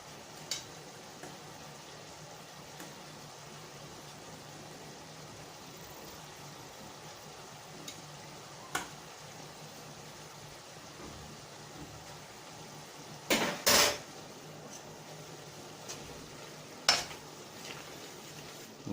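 Food frying quietly in a pan, a soft steady sizzle with a few sharp clicks and scrapes from turning it partway through.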